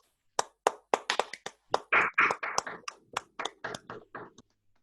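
A single person claps alone, close to the microphone at the end of an online session for referees: about fifteen sharp, separate claps in an uneven rhythm that quicken briefly in the middle before slowing and stopping.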